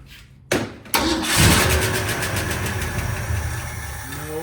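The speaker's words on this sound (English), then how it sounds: "see if we can't get this thing to start and idle and run on her own." A 1967 Mustang, unused for about 16 to 20 years, cranks over with a couple of short bursts, then catches and settles into a loud, steady idle that keeps running on its own.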